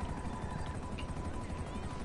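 A helicopter idles close by in GTA 5, a steady low rotor drone and whine that holds at an even level throughout.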